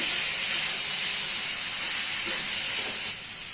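Vegetables sizzle in hot oil with tempering spices in a pan for a Bengali mixed-vegetable dal, a loud continuous hiss that holds steady and eases slightly at the end.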